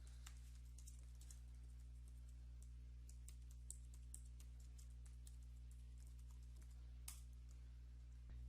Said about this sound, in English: You would do this by typing the following command.